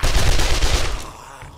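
Rapid bursts of gunfire in the zombie survival game 7 Days to Die, loud and dense for about a second before tailing off into quieter rumble, with no talking.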